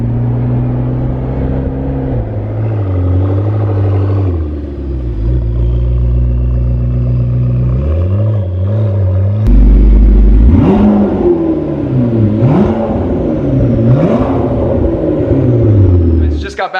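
McLaren sports car, freshly rebuilt after being wrecked, driving with an engine that climbs and drops through several gear changes and revs. It is loud and close throughout, with voices talking over it.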